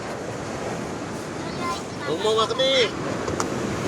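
Surf washing onto a shore where fishermen release a baby sea turtle, a steady broadband wash with a brief swell of louder water midway, wind buffeting the microphone and people talking over it.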